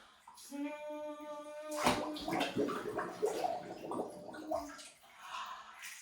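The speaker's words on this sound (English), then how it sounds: "It made bubbles." Young child blowing bubbles into bathwater during a baby swim lesson, a burst of bubbling gurgles following a sung tone, with an adult talking around it.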